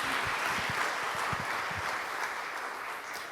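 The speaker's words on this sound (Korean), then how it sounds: "여러분, 이세돌 교수님을 큰 박수로 모시겠습니다." Audience applause at a Korean forum session welcoming the keynote speaker, a continuous dense patter of many hands filling the hall, steady and moderately loud throughout.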